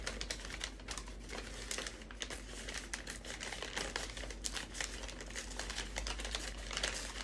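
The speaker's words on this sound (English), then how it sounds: "And you don't want to cut it." Paper is torn by hand for an affirmation jar, giving continuous close crackling and ripping bursts at a quick, uneven rhythm with no talking.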